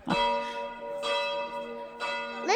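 A bell rings three times at an even pace, each strike ringing out with a bright harmonic tone that lingers before the next.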